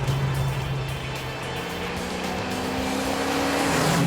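A 1969 AMC SC Rambler drag car's exhaust drones loud and steady from inside the cabin while cruising hilly roads, a deep continuous rumble with a rising tone near the end.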